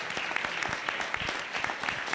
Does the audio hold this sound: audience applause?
yes